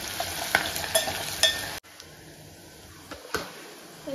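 Food frying in a pan on a home stove, browning while being stirred: steady sizzle with periodic scraping strokes, then a sudden drop to a quieter sizzle and a couple more stirring scrapes.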